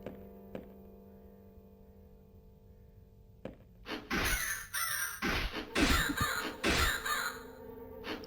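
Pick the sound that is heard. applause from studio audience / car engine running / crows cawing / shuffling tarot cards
crows cawing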